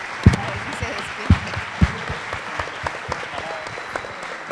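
Loud applause from a university induction audience for student tutors, steady dense clapping throughout with a few sharper close claps standing out near the start.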